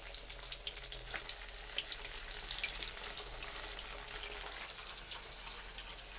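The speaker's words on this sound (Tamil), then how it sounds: "இந்த பக்கம் மீன் வந்து ஃப்ரை ஆகிட்டு இருக்குது" Fish fries in a pan with a steady, hissing sizzle and fine crackling, continuous and moderately close, no voices over it.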